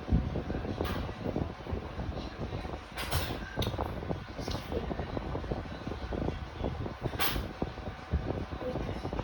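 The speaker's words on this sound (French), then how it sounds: "je le mets à fond le ventilateur et je transpire" A steady broadband whoosh of an electric fan running at full speed, continuous and close, with faint sporadic background sounds.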